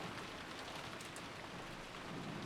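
Steady, heavy rain pours down with wind in a visual novel storm scene, a dense hiss of falling drops that stays even and fairly faint throughout, with no voices.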